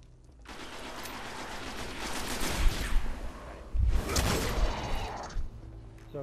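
Rapid bursts of pistol and auto rifle fire ring out during a first-person shooter match in Destiny, with dense crackling volleys and whooshing effects swelling and fading over several seconds.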